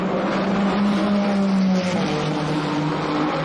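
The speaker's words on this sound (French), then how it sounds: "La Ferrari, elle fait un bruit très bon." Steady, loud Ferrari hypercar engine holding a sustained drone with a strong low tonal hum and slight pitch shifts, continuous throughout with no talking.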